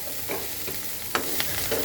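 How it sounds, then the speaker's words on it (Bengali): Vegetables, likely bitter gourd, fry toward crispness in a pan with a constant hiss of oil. A utensil stirs and scrapes them in a few distinct strokes, close and without any voices. "আমি একটু বেশি কড়া করে ভাজবো"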